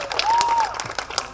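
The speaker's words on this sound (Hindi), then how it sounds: "let's give a huge round of" Audience applause at a young entrepreneurs summit, a burst of clapping from a crowd filling the short stretch at steady loudness, with a brief whistle-like tone rising over it.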